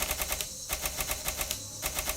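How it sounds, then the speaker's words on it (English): Resident Evil style typewriter sound effect in a multiplayer horror video game: a fast, even run of sharp mechanical key clacks over a steady background, played loud and with no talk. "It's even got the Resident Evil typewriter sounds when you change area"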